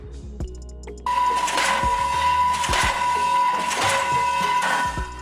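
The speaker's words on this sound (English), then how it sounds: "Diesel hammer, a device used for pounding or dismantling hard structures using energy from a diesel engine." A diesel hammer on a construction site pounds in repeated heavy strikes, roughly one per second, each a loud broad thud over a steady mechanical hum.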